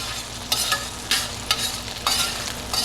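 Lemon juice sizzling in a hot stainless steel pan while being stirred, a bright close hiss with repeated scraping strokes roughly every half second.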